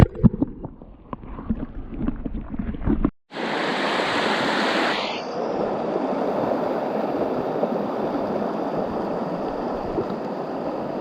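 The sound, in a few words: flowing water of a river stream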